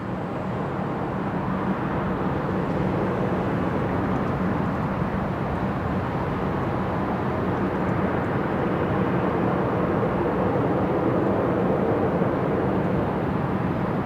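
Aircraft Rescue 533 rolls in along a taxiway at Brisbane Airport, its engines giving a steady, moderately loud roar that holds evenly throughout without voices.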